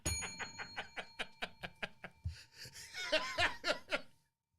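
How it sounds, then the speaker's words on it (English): A small bell dings rapidly in a steady series of bright strikes, with laughter-like bursts joining near the end. "Oh, that's a bell."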